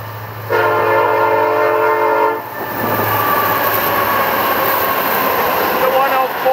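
A Florida East Coast Railway freight train passes close by, its horn sounding in a long loud blast before the steady roar and clatter of the rolling cars take over.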